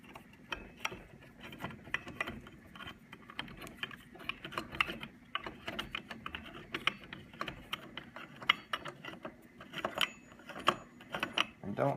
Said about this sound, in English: stick it through one by one, screw those in